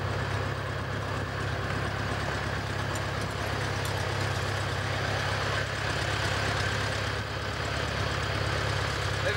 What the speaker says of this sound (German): Lass den Motor laufen, ich bin gleich wieder zurück.